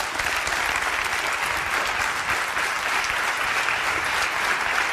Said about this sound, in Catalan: La poden aplaudir?